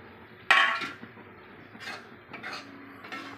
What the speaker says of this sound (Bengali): এবার এই লঙ্কাগুলো ঢেলে দেবো।